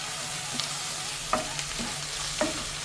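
Onions fry quietly in a pan for pepper chicken, with a steady soft sizzle broken by a few occasional scrapes and taps as they are stirred.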